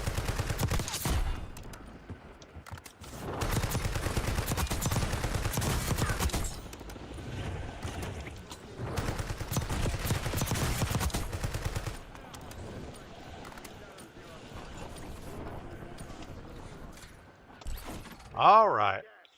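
Cypher rifle gunfire in Call of Duty Warzone, several sustained bursts of rapid automatic shots separated by short pauses, loud and close, with quieter game sounds and a brief voice near the end.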